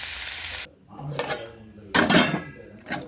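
Semolina being stirred into a pan of vegetable upma: a loud hiss at first, then bursts of metal spoon scraping and clinking against the pan, close and uneven with short pauses between.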